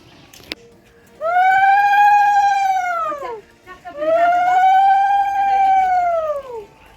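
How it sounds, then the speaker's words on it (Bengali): Two long, high, trilling ululation calls of Bengali ulu given at the lighting of a cooking fire during a picnic, each lasting around two seconds with a short pause between, close and clear. "এখানে একটু উলু দিব"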